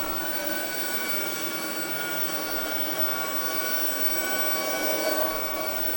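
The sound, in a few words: Shark ionFLEX cordless vacuum cleaner running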